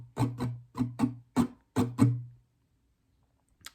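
Acoustic guitar strummed in the main pattern for a song: seven close, bright strums in a quick uneven rhythm, ringing briefly and then stopping, with a faint single hit near the end.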